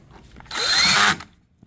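A power drill drives a screw into an Amana PTAC unit in one short, close, whirring burst of well under a second, with quiet before and after.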